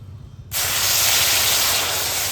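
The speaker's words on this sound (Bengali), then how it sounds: "এবারে এইভাবে ভালো করে নেড়ে অল্প করে জল দিয়ে দেব।" A sudden loud, steady hiss erupts as water is poured into hot caramelising sugar in a pan, with a faint stirring sound before it, then the hiss sustains strongly until the end.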